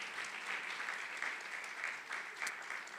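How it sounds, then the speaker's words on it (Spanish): Church congregation applauding together, a dense and steady wash of clapping that holds at an even level for the whole stretch, with no voices standing out above it. "Démosle un aplauso al Señor por esta obra."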